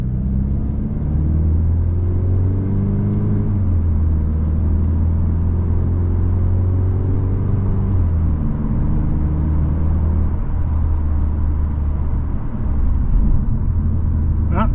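A 2026 Volkswagen Golf R in manual mode drives on a road with traffic, its engine a steady, deep low rumble under continuous road and tire noise, with pitch shifting gently as it pulls.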